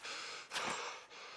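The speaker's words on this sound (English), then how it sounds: "he's heavy breathing in my ear" A character in the Pillars of Eternity game breathes heavily, one sharp, gasping inhale and a softer exhale, faint and close over a low background hiss.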